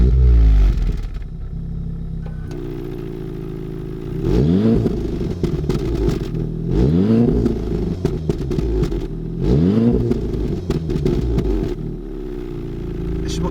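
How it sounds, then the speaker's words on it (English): 2016 VW Golf R 2-litre petrol engine with 4Motion starting up, then settling into a steady idle broken by several sharp rev bursts spaced a few seconds apart, close and fairly loud. "This is how driving mode sounds when the engine starts up"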